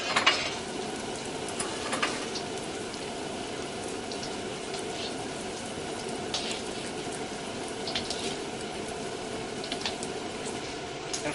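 Tofu frying in hot oil in a pan for agedashi tofu, a steady close sizzle and crackle with small pops, continuous throughout.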